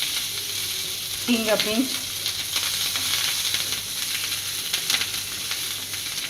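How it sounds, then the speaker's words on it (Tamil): Dry red chilies and finely chopped curry leaves sizzle steadily in hot oil. A brief burst of crackling and spitting comes early, then a softer hiss continues, and a voice speaks briefly over it. "add some dry chilies, curry leaves, finely chopped curry leaves,"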